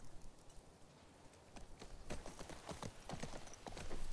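Horse hooves clopping at a steady riding pace in the video game The Last of Us Part 2, quiet at first, then a close rhythmic run of hoofbeats growing louder.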